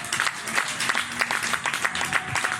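A church congregation applauds Jesus during a French-language sermon about the invisible fire, with dense, steady clapping from a crowd and a few cheers rising through it, fairly close and continuous.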